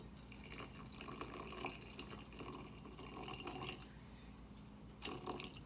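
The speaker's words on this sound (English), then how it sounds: "I'm going to put some balsamic vinegar in." Balsamic vinegar pours into a mason jar in a steady, close liquid trickle with faint splashy bursts, heard alone for several seconds.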